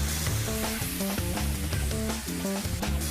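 Artichokes being stirred into a hot, sizzling pan for a paleo crab artichoke dip: a steady, loud frying hiss throughout, with irregular scraping and clinking of the stirring utensil against the pan up close.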